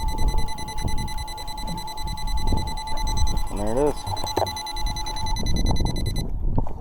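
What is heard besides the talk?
electric downrigger beeping near the top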